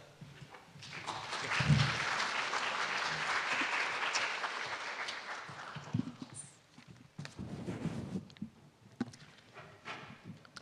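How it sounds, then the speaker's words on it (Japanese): A symposium audience gives a round of applause as the panel speakers leave the stage. A dense wash of clapping rises, holds for several seconds, then thins into scattered claps and shuffling. "皆様今一度大きな拍手でお送りください"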